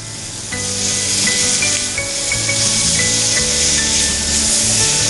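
Vegetables stir-fry in a hot pan, loud and close, starting with a quiet moment before a strong continuous sizzle and hiss rises, with faint scraping and tossing from the stirring underneath.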